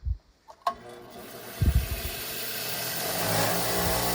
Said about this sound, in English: So just wire wheeling more bolts.